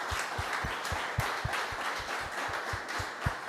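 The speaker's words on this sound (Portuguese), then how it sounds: "Você pode aplaudir ao Senhor, queridos?" A church congregation claps together in a steady, rhythmic beat, dense and sustained, with a bright wash of hands over regular low thumps.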